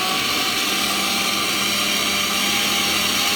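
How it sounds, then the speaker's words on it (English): A blender whirs at full speed, mixing cake batter with eggs, in a loud, unbroken drone with no talking. "Do not stop the blender until the eggs are mixed in."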